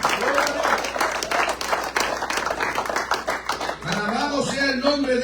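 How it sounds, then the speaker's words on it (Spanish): A church congregation clapping in praise during a service, rapid rhythmic handclaps from many people filling the room, with voices and singing rising over the clapping toward the end. "Denle palmas de alabanza al Señor."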